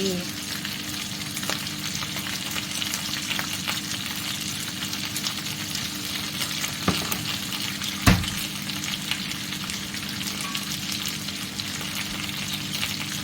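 Pork belly stir-frying with chili and turmeric in a hot pan, a loud continuous sizzle with occasional scraping stirs and one sharp clank.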